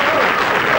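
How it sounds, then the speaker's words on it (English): Studio audience applause at a quiz show, loud and dense, filling the whole short moment without a break. "A big round of applause."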